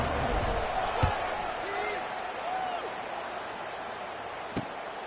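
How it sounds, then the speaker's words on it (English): A steady stadium crowd rumbles and murmurs at a College Football 26 game between Arkansas State and South Alabama, a broad wash of noise with a couple of faint thumps and stray whistles or calls inside it. "this crowd is buzzing after that last score"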